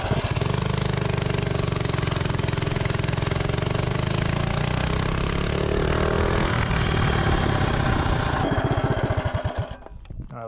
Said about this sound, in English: second attempt, 0 to 30, VP race gas and it goes